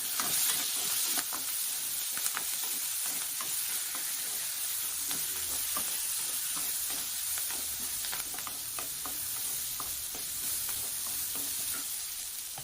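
Tomatoes and curry leaves sauté in a pan for a South Indian kadalai kulambu, a steady close sizzle and crackle broken by scraping stirs, with no voices.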